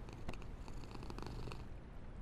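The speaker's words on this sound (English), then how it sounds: "Is a fucking cat sound as you go under." A cat purr sound effect from the video game Only Up, a steady low rumbling purr that runs continuously and fairly loud for the whole stretch, with no talking over it.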